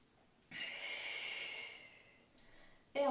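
One deep breath during a pilates exercise, a close, soft airy rush that swells, holds for about two seconds and fades, followed by a shorter faint breath and a sharp onset at the end.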